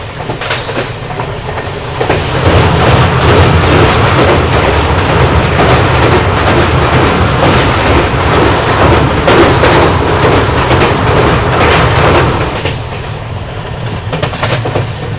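The Naharlagun–Guwahati Shatabdi, hauled by an electric locomotive with a Vistadome coach, runs at speed with a loud, continuous rolling roar and rhythmic clickety-clack. The noise peaks through the middle stretch, then eases slightly, with no talking.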